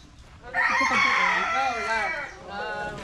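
A rooster crows loudly and close, one long drawn-out call followed by a shorter tail.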